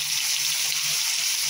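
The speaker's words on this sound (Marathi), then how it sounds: "मग फोडणी तेल घालायचा" Oil heating in a pan for tempering a fenugreek-leaf and toor dal bhaji gives a steady, close, broadband hiss and sizzle that holds evenly without a break. No voices are heard.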